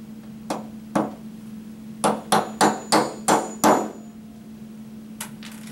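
A hammer taps compression dowels into flat-pack hutch boards in about eight sharp, close knocks. The first two blows are isolated, a quick run of five follows, and one faint tap comes last, with no talking.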